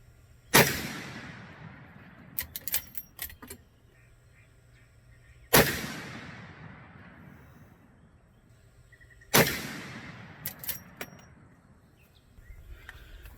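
Three loud Winchester 1886 rifle shots fired outdoors with cartridges loaded with green coupons, each a sharp blast followed by a long rolling echo, evenly spaced about five seconds apart, with faint clicks and rattles after each.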